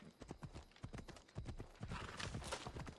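Horse hooves clip-clop steadily in the Assassin's Creed Odyssey video game, a continuous trotting rhythm of moderate loudness over a busy background of game ambience.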